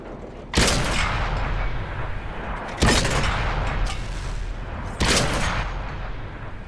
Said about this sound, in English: We start putting the shots in